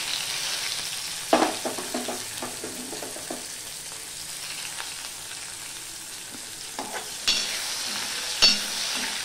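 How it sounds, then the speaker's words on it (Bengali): Peeled garlic cloves fry in hot oil with five-spice seeds (panch phoron) for a vegetarian taro-leaf dish: a soft steady sizzle runs beneath occasional clattering scrapes of a spatula stirring the pan. "এবার রসুনটাকে আমি লাল লাল করে ভেজে নেব।"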